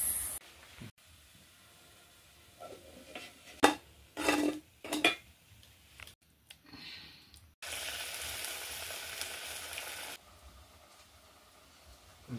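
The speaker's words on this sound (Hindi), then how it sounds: "अभी मैं पकौड़ा पका रही हूँ" Pakoras fry in a pan in a village kitchen, with clinks and scrapes of a utensil in short bursts, then a steady loud sizzling hiss that runs a few seconds before cutting off.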